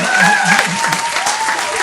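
A live audience applauds after a performance, with loud, dense clapping that fills the whole moment without a break.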